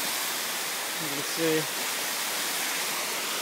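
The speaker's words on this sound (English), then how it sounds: "But now I'm standing on top of the waterfall." A waterfall rushes into a creek in a park, a loud, steady broadband roar heard up close throughout, with someone briefly talking over it.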